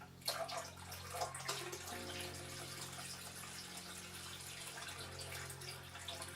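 Water runs into a container being filled to top up a koi tank on water change day, a soft continuous pouring and splashing with faint gurgles, quiet and close.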